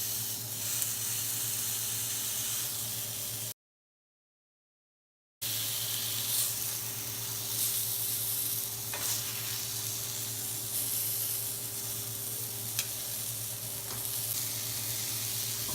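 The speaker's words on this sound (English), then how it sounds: "I've got a very hot grill on a burner here. I'm going to put this peach face down like this." A halved peach set face down on a very hot grill over a burner gives a steady, loud sizzle that hisses continuously with no talking, dropping out briefly before resuming.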